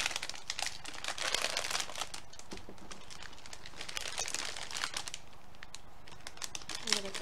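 Plastic packaging of star mints crinkling and rustling, close and loud, with irregular crackles throughout.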